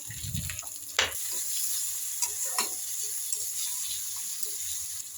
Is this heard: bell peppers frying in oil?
yes